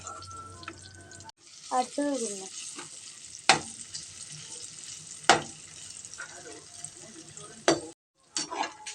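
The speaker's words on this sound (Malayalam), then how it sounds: "രണ്ട് ഭാഗവും ആയി വറുത്ത് കോരി" Oil sizzles steadily as something fries, with stirring clatter and a few sharp utensil knocks; a voice speaks briefly near the start.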